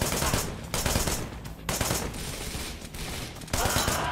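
Rapid bursts of gunfire from the video game Wanted: Dead, loud and dense, with short gaps between volleys that resemble automatic fire and several heavy shots, sounding continuous and close across the whole stretch.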